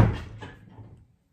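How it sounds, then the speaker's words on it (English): A door shuts indoors with a single solid thud and a short rattling decay that fades within about a second, heard alone without talk. "Can you shut that door?"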